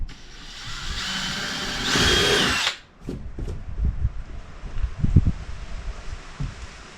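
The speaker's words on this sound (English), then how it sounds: "I'm going to start drilling holes in my kayak" A power drill whirs steadily for a few seconds while drilling holes in a kayak's hull, then cuts out, followed by scattered knocks and handling sounds.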